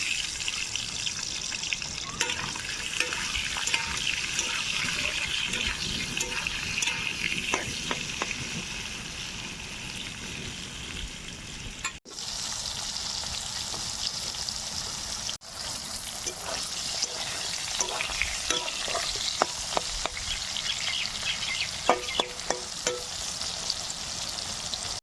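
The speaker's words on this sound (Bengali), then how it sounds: "পটলগুলো এবার ছেড়ে দেব।" Pointed gourd (potol) slices fry in hot oil with a continuous close crackling sizzle, punctuated by sharper pops and light clinks from stirring, carrying on steadily for the whole stretch.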